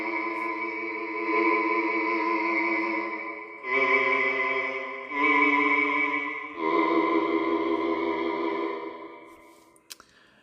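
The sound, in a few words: Zoia formant synth vowel patch sounding like monks chanting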